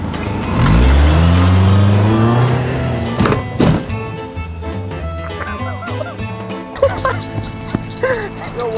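A hard car crash in a video game, a loud revving engine and a heavy thunk near the start, then scattered clatter and game sounds fading under excited talk.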